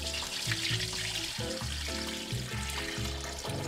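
Water runs and splashes while chickpeas are washed by hand for hummus, with repeated bursts of pouring and stirring sloshing in a bowl, close and moderately loud.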